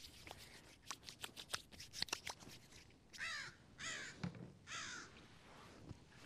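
Outdoors, crows caw in a rapid series of harsh calls followed by a few longer, drawn-out caws at moderate distance.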